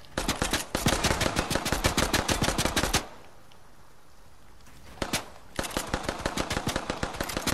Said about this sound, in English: Oh, come on, he's shooting me down.